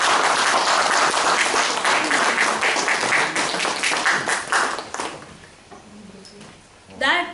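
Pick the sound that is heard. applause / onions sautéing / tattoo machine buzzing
applause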